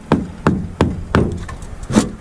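Improvised tool knocking a part onto a clapped-out El Camino in place of a hammer, with four sharp, evenly spaced woody taps and a fifth duller knock, close and fairly loud, with no talking.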